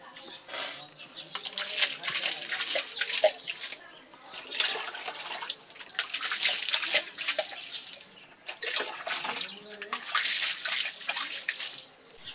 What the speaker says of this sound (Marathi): आता याच्यावर आपण चांगलं पाणी मारायचं